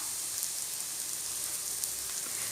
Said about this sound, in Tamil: இப்போ நம்ம வந்து கருவேப்பிலை போட்டுக்கலாம்